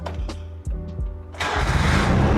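The small two-cylinder engine of a Honda Acty van with a center-exit bike exhaust cranks over a few times with rhythmic chugs, then catches and settles into a loud, rattly idle.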